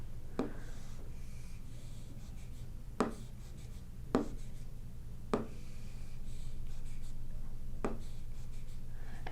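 A diagram being drawn by hand, with a few sharp tapping pen strokes spaced irregularly across a quiet background hum, growing slightly busier with faint rubbing toward the end.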